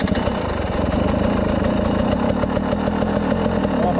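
A small engine idles steadily after a choked start, a loud, continuous throbbing putter with a fast, even rhythm close to the microphone and no talking over it.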